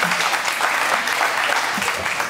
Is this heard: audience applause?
yes